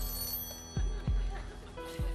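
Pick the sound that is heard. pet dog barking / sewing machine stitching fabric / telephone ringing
telephone ringing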